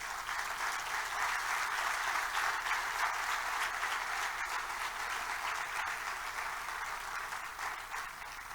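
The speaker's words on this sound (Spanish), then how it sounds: "¿Cuántos pueden darle un fuerte aplauso al Padre Celestial?" A church congregation gives sustained, even applause, a dense wash of clapping from a large crowd that holds steady and then slowly thins toward the end.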